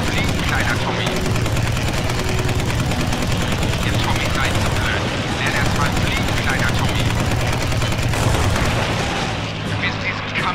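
Continuous machine gun fire in WWII air combat over Britain in the game Combat Wings, loud dense rattling against a steady aircraft engine drone, with voices speaking over it.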